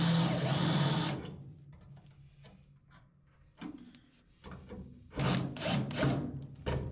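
Drill boring through two layers of thin sheet metal on a car floor pan: several short bursts of harsh, grinding whirring separated by quiet pauses, with a faint voice between bursts.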